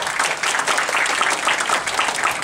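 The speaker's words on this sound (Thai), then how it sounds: "เสียงปรบมือต้อนรับท่านด้วยครับ" A crowd applauds to welcome a guest onto the stage at a Chinese New Year press event in Bangkok's Chinatown, a loud, continuous burst of many hands clapping nearby.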